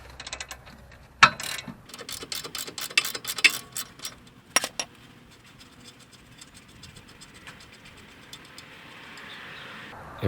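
Ratchet clicks and metallic tool noises while a 17mm nut is broken loose and backed off a tie rod on a 1985 Toyota Celica Supra, with a sharp burst of clicking early on and quieter mechanical scraping afterward, no talking.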